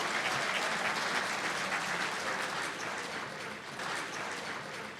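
A large audience at a sports hall of fame induction ceremony claps in a dense, sustained wave of applause, filling the hall steadily for several seconds with a slight dip near the end.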